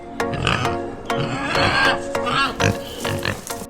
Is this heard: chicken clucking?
no